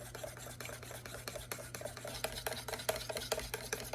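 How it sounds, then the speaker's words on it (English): A spoon works wet ingredients into sourdough discard biscuit dough in a bowl, making soft, rhythmic scraping and sloshing strokes. The sound is close but quiet over a low background hum, with no talking. "Just slowly incorporate the wet ingredients together."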